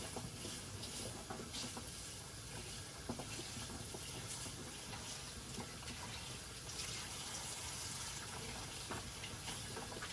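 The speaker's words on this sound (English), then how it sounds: "And just some cold water." Cold tap water runs steadily as raw lamb chops are rinsed under it, a faint, continuous splashing hiss with no speech.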